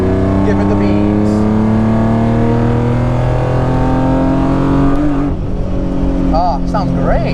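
A loud, close BMW E36 M3 race car engine revs hard, its pitch climbing and dropping as it shifts through gears, with a brief voice near the end.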